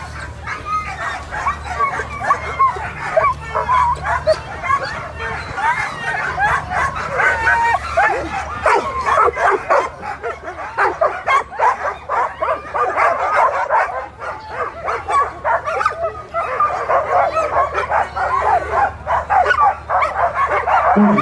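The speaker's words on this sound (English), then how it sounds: "Look at these dogs, they're looking great." A sled dog team barks and yips excitedly and almost nonstop, loud and close, at the Fur Rondy sled dog race in Anchorage, Alaska, with crowd and voices mixed in.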